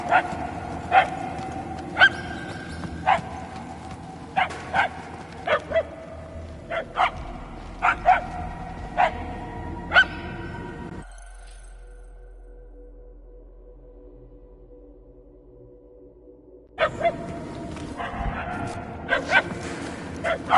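A dog barks repeatedly in evenly spaced, sharp yelps inside the Guardians of the Galaxy video game, over a steady background hum, then drops away into near silence before game ambience returns.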